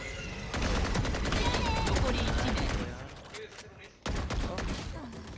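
Rapid automatic gunfire in the tactical shooter VALORANT, dense close bursts of shots that go on for several seconds, ease off briefly, then resume, with a player talking over them.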